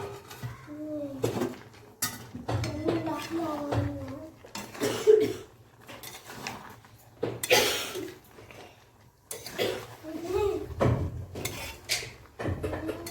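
Cauliflower with potato and prawns stirred in a pan in a home kitchen, a ladle clanking and scraping against the pan in repeated bursts, close, with a voice briefly heard in between.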